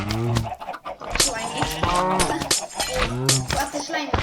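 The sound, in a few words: cows mooing in Minecraft video game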